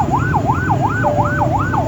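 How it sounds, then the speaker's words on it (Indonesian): Ambulance siren wailing loud and close in a fast, even up-and-down sweep that repeats several times without pause. "Tiba-tiba mereka dengar ada suara ambulans"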